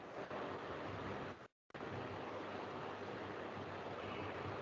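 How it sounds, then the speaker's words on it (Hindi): Steady broadband whooshing fan noise fills the background of an online class call, loud and constant, briefly cutting out to silence for a moment before resuming unchanged. "सर शायद फैन की आवाज है पीछे।"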